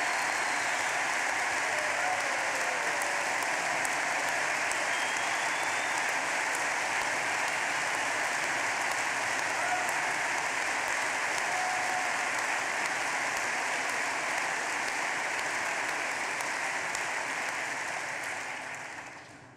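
Sustained applause from a large party conference audience, a dense, steady wall of clapping lasting close to twenty seconds before tapering off at the end.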